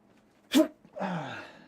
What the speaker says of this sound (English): And I have sneezes this morning.